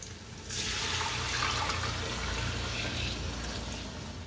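Stock poured steadily into a pot for Kabuli pulao, a continuous splashing gush starting after a brief pause and running to the end with no talk.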